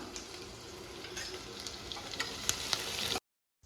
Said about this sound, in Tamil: வெங்காயம் மட்டும் நல்லா வதங்கணுங்க நல்லா கொஞ்சம் ப்ரௌன் கலராக ஆகிற வரைக்கும் வதங்கினா மட்டும்தான் கொஞ்சம் நல்லாயிருக்கும்